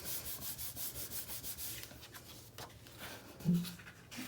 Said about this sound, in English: So I'm just gonna burnish that down.